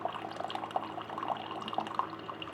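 Hot water streaming from a JIMMY R9 Pro countertop RO water purifier, a soft, steady trickle with faint dripping and bubbling, quiet and without voices.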